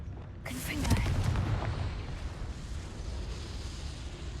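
A Confringo fire spell goes off in the video game Hogwarts Legacy as a loud fiery explosion that bursts suddenly and then fades into a rumbling crackle.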